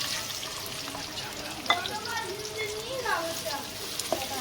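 Onions dropped into about a cup and a half of hot oil, a hissing sizzle with splashes and stirring clatter, a few brief knocks, moderately loud and continuous.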